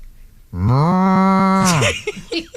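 A person imitates a cow's moo with one long, loud, sustained lowing call, close and alone, ending in a falling tail followed by brief noises.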